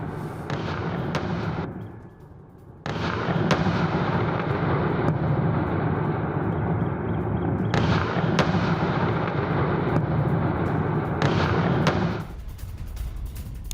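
Missile strikes and explosions across Kyiv, Ukraine, heard as a long, dense roar of heavy blasts and rumbling with sharp bursts breaking through at intervals and a brief dip before the barrage resumes.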